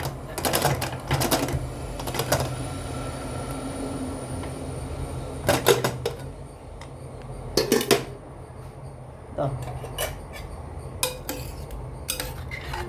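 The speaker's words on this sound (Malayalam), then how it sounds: "ഇപ്പോൾ നമ്മളിത് കുക്കർ തുറക്കാൻ പോവുകയാണേ." A pressure cooker being opened after cooking an Onam sadya stew: sharp metallic clanks and rattles of the lid and vessel come in scattered bursts over quiet kitchen background, with no talking.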